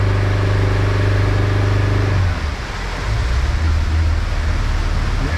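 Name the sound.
Smokercraft 172 Osprey boat outboard 115 engine running rough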